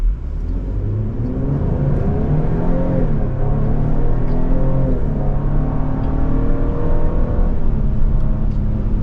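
A 2024 Lincoln Aviator Premiere AWD with a 10-speed automatic accelerates, its engine note climbing through a gear change and pulling steadily under moderate cabin hum, with no talking.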